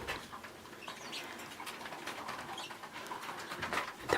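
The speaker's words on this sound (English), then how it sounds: "So you can hear them chittering away." Pet birds chitter and coo softly at their evening perch indoors, a faint continuous twittering with occasional light wing flutters and no talking.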